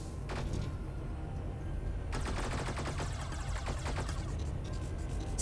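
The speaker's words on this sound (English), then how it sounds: "let's throw a couple homing missiles in there" Homing missiles fire in the video game Sublevel Zero, a quick stuttering burst of launches and crackling impacts over a constant roaring drone, with a short pop near the start and a denser volley midway.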